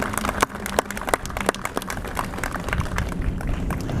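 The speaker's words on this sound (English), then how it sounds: "Let's give them a round of applause as well." An audience at a city inauguration ceremony in Manitowoc gives scattered, moderate applause, a loose patter of hands with a few louder individual claps, fairly close and unaccompanied by speech.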